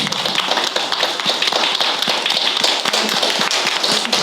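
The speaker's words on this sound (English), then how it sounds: "And I'd like to give them a round of applause." Audience at a borough council meeting applauding the recreation committee, a steady, fairly loud patter of many hands clapping with sharper individual claps standing out throughout.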